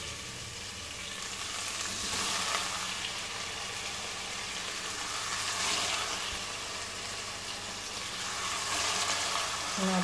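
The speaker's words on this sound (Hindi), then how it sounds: "अब इसमें ऐड करती हूँ चिकन" Chicken fries in a pan with chillies, a dense, steady sizzle that crackles continuously at close range with gentle swells and no talk.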